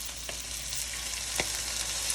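Steady close sizzling hiss from a pan of slow-cooked pork as it is deglazed, with a couple of faint clinks over the continuous frying.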